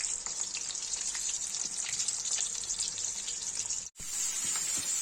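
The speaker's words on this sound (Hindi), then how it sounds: "ये देखिए टिंडा फ्राई हो रहा और बचा हुआ।" Tinda (apple gourd) fries in hot oil with a steady, bright sizzling hiss that drops out for a moment partway through, then resumes.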